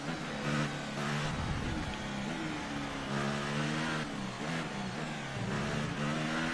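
A Formula 1 car engine in the F1 2018 racing game screams at high revs through a qualifying lap, loud and continuous, with repeated gear shifts producing stepped pitch climbs and brief dips.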